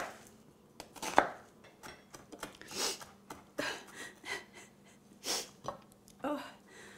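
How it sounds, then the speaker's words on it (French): Steady knife chopping on a board as half a large onion is minced finely, a quick irregular run of close taps with breathy sniffles mixed in. "je prends un demi-oignon que je vais faire hacher assez finement"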